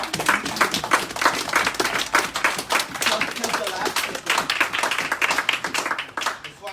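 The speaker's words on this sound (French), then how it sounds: "tu peux applaudir pour ça." A church congregation applauds with dense, irregular clapping that continues throughout at moderate loudness. Speech from the room mixes in over the clapping.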